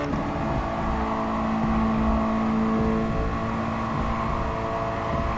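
A race car engine in Gran Turismo Sport driven on a Thrustmaster wheel setup, holding a steady loud drone with a sustained tone and slight pitch changes as it shifts, no voices.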